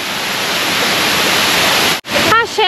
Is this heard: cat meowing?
no